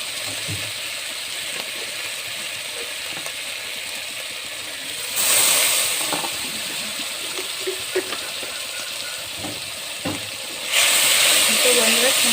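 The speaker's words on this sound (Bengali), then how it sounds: "মশলাটাকে একটু ভেজে নিচ্ছি আমি এখন" Spice mix fries in oil for ghugni with a steady soft hiss that surges louder twice when stirred, close by with a faint scrape or two and no clear talk.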